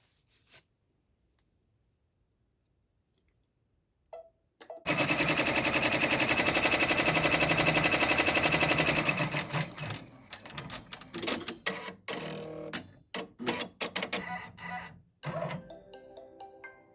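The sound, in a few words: multi-needle embroidery machine stitching custom socks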